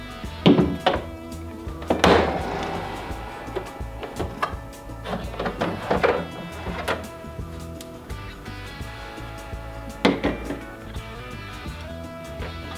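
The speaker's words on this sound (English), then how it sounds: "we are ready to start pulling trays out of the dehydrator and load up the jerky gun" Dehydrator trays of ground venison jerky are slid out and a jerky gun is loaded in a kitchen, giving irregular close knocks, clunks and scraping handling noises with quiet gaps between.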